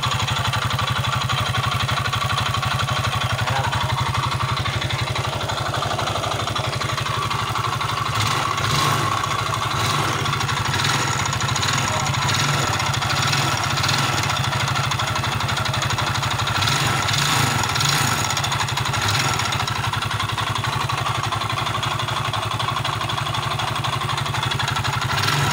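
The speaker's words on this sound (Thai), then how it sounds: "การที่มันดังอยู่ในห้องข้อเหวี่ยงแบบนี้เราสงสัยว่าเป็นก้านสูบยังไงก็เป็นก้านสูบนะครับ" Yamaha Fino scooter engine idling with a steady mechanical knock from the crankcase, suspected worn connecting rod, running continuously and fairly loud close by with rattling clatter throughout and no talk.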